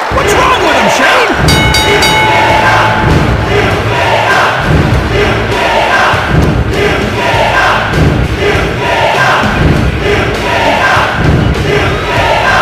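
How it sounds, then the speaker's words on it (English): Capacity crowd roaring steadily in the WWF Attitude wrestling game on Dreamcast, a loud continuous arena din with swelling cheers throughout, with no pauses. "listen to this capacity crowd"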